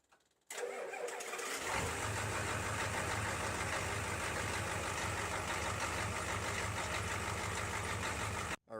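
A 7.3 IDI diesel truck fitted with a new starter, glow plugs and controller, not run for over a week, cranks briefly and fires, then settles into a loud, steady, rattly idle heard close up with no talk.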